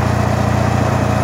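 A KMZ-012 mini tractor engine runs while clearing snow, giving a steady, loud, close mechanical drone with a low rumbling throb and no pauses or talk.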